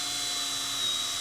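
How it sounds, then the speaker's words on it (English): Portable drill press boring holes through pegboard side panels, a loud, steady high-pitched whine held for the whole short stretch without pauses. "uses a portable drill press to drill a line of perfectly straight holes through the pegboard and down the length of the side panels"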